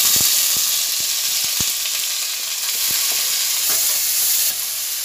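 Chopped cabbage fries in a spiced pan and is stirred, giving a loud, continuous sizzle punctuated by sharp, irregular clicks of the spoon against the pan.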